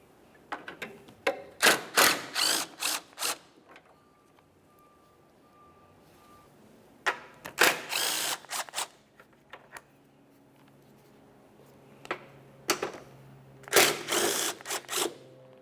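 Ratchet wrench loosening three 10mm headlamp mounting bolts along the bottom of a 1994-1997 Honda Accord headlamp assembly; close, quick clicking bursts in several separate runs with quiet pauses between.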